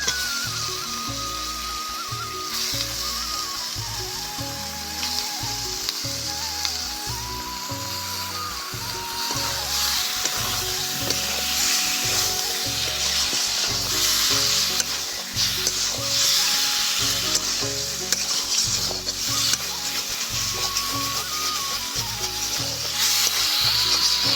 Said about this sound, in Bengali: এই সময় দিয়ে দেবো ধুয়ে রাখা মাংস। তারপরে মাংস দেওয়ার পরে খুব ভালো করে কষাবো।